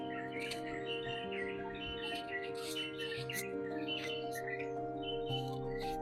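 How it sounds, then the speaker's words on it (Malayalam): Birds chirp and tweet steadily in the background in Munnar, with many short overlapping calls over a constant low hum; no one speaks. "നല്ല കിളികളുടെ ശബ്ദം."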